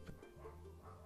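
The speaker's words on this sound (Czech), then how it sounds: "Doufám, že neslyšíte toho psa venku" A dog barks and yips outside, heard faintly and at a distance through indoor room noise, a few short barks early on followed by softer whimpering sounds.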